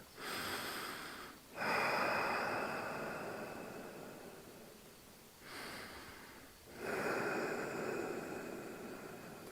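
Slow, deep breaths drawn in a turtle-position spine mobility exercise for a sore back, two long inhale-exhale cycles heard close and alone with a brief pause between them.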